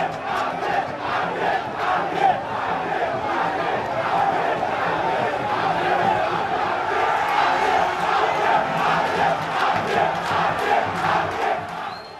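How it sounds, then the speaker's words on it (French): A crowd of several hundred demonstrators at a street rally makes a steady, loud roar of shouting and chanting voices that goes on without pause. "un bain de foule qui s'est transformé rapidement en une manifestation qui avait réuni plusieurs centaines de personnes"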